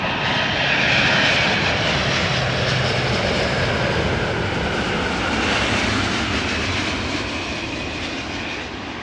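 A Cargolux Boeing 747 in retro livery arriving at an airport fills the air with a loud, steady jet engine roar that holds for the whole stretch and eases slightly toward the end, with no voices.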